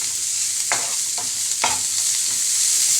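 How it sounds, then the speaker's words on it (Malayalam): Spinach with salt being stirred in a hot pan, a steady sizzle broken by a few scraping strokes of the spoon, close and moderately loud with no talk. "നന്നായിട്ടൊന്ന് ഇളക്കി കൊടുക്കാം"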